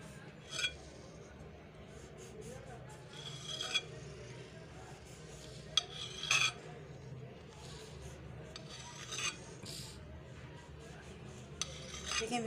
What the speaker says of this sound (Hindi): मैं इसको आपको काट के दिखाती हूँ।